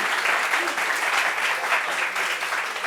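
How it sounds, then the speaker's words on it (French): A French talk-show studio audience applauds a guest, thick continuous clapping from many people that holds steady throughout. "Applaudissements pour lui, applaudissements pour lui."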